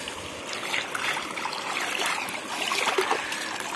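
A small roadside waterfall and stream in the Bahian sertão flowing steadily, a close, continuous splashing trickle with no voices.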